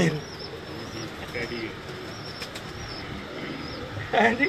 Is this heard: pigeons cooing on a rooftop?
yes